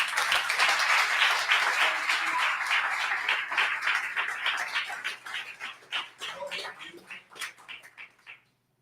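A church congregation applauds, first as loud dense clapping, then thinning into scattered individual claps that fade out to silence after about eight seconds.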